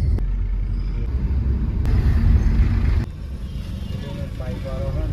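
Steady low engine rumble and road noise inside a car carrying a family of four to Navratri celebrations in Gandhinagar, continuous throughout, quieter after a brief click partway through.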